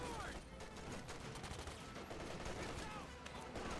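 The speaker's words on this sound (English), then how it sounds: "Did you guys hear bullets?" Rapid gunfire and bullet bursts fill a battle in the World War II strategy game Company of Heroes 2, with dense overlapping machine-gun rattles and shots running continuously at moderate volume.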